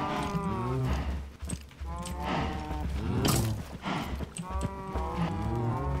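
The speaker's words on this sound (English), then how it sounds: "I just milked a cow" Cow mooing and animal sounds while milking a cow in Minecraft, repeated low lowing calls with clip-clop-like steps, moderately loud and steady over several seconds.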